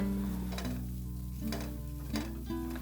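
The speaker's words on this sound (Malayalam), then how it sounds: "ചെറിയ കഷ്ണങ്ങളായിട്ട് അരിഞ്ഞ 2 തക്കാളി കൂടെ ചേർത്ത് കൊടുക്കുവാണ്." Two chopped tomatoes go into a pan of frying cashew nuts and onions for tomato rice, raising a brief steady sizzle under background music.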